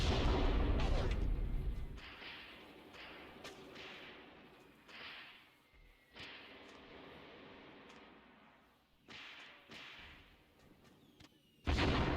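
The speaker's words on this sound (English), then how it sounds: "Yep, I see those mortars dropping." Mortar shells land and burst in a World War II North African campaign battle game, several sharp cracks and thuds scattered over rumbling battle noise, some close and loud, others fainter.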